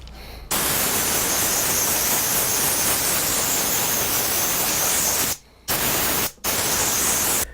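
Garden hose spraying water while a sign is being made outdoors, a steady loud broadband hiss that cuts off briefly twice near the end before resuming.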